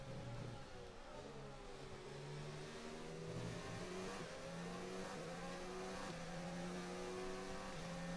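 A motorbike engine passing outside in the racing game F1 2019, a steady revving drone with rising and falling pitch that holds at moderate level throughout, without speech.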